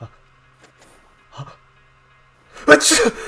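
A single loud, sharp sneeze bursts out near the end, preceded by a few quiet breaths and faint sounds in near silence.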